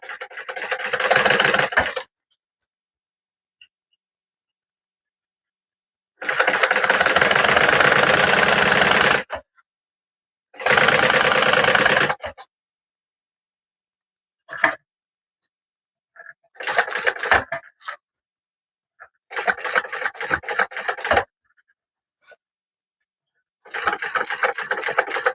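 Sewing machine stitching the bottom of a bag to its lining, running in several loud, steady bursts of a few seconds each, separated by quiet pauses and a few small clicks.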